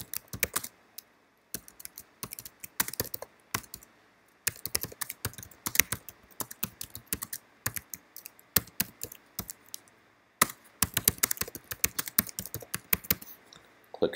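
Typing on a computer keyboard: rapid clusters of crisp clicking keystrokes, close and clear, broken by brief pauses between bursts.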